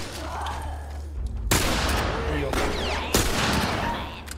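Bursts of loud gunfire crack out in quick succession in the video game The Last of Us, several sharp shots over a rumbling background with voices mixed in.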